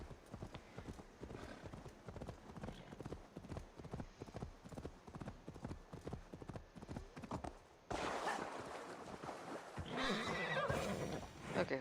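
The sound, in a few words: horse hooves clip-clopping in a video game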